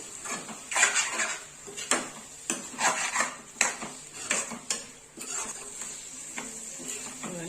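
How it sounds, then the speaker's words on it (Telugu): Mutton spleen being stirred with spices in oil in a pan: repeated close clinks and scrapes of a spoon against the metal pan in uneven bursts, with a faint sizzle underneath and no talking. "వేసేసుకొని ఈ ఆయిల్లో అంతా కలిసేటట్టు కలుపుకోవాలి."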